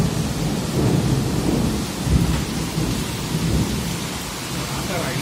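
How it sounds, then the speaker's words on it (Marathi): Heavy rain pours outdoors with low rolling thunder underneath, a dense and loud steady roar that swells in places and continues throughout, with no voices. "इथपर्यंत पाऊस येतोय"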